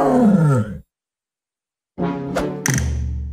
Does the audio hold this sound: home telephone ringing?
no